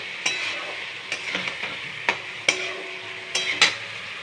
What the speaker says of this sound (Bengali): একটু সামান্য জল দিয়ে এবার মশলাটা আমি কষাবো